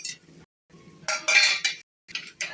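Whole spices go into hot oil in a pan for mutton kola, with short bursts of sizzling and the clink of a metal utensil against the vessel, separated by brief quiet gaps.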